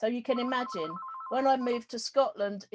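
A phone rings with a short electronic tone, partly under a person speaking continuously nearby.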